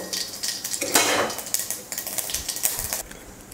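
Mustard seeds and urad lentils crackle and pop rapidly in hot oil while tempering for sambar, a dense spluttering patter with a few louder snaps.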